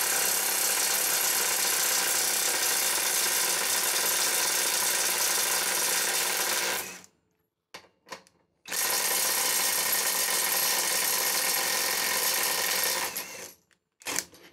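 Parkside Performance PPDSSA 12 A1 cordless impact wrench on mode 4 (300 Nm), loosening a car's wheel bolts: two long, loud, steady hammering bursts of about seven and five seconds with a short gap between, no talk.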